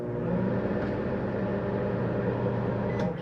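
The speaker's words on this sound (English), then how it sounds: "Your microwave, show you that working here." A microwave oven running inside a 2021 Keystone Bullet Crossfire 2200BH travel trailer, giving a steady, even hum and whir that holds level throughout, close and alone with no talk.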